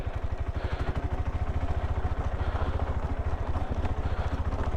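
A KTM 390 Adventure single-cylinder motorcycle engine chugs steadily at low speed in second gear, a fast regular low-pitched thumping pulse held close and even throughout with no talk.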